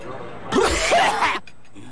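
A single dry, barking cough from a television commercial for dry-cough medicine: one short, harsh burst lasting under a second, close and fairly loud, set between quiet moments.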